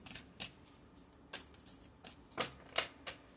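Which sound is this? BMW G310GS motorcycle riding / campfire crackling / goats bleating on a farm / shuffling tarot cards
shuffling tarot cards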